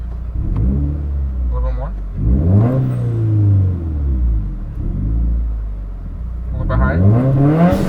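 Car engine fitted with a Tomei Expreme Ti exhaust and Grimmspeed catted J-pipe, idling low and rumbling, then blipped in short revs that rise and fall, with people talking over it.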